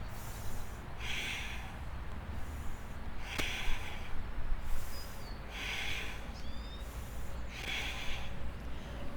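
Deep, slow breathing during a yoga session, with about four close, airy breaths spaced a couple of seconds apart over a steady low background hum.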